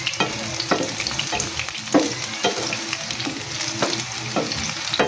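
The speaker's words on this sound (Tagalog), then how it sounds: "Yantiin lang natin yung paghalo. Maintain lang natin. Hanggang mag-brown yung sibuyas." Onions and garlic fry in a pan for bitter gourd stir-fry, a continuous sizzle broken by rhythmic scraping strokes of a spoon stirring every half second or so, close and fairly loud with no talk.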